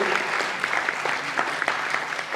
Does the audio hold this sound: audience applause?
yes